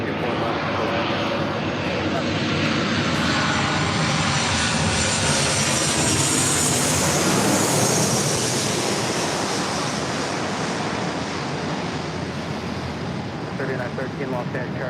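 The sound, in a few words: Embraer airplane landing on runway 24 left at LAX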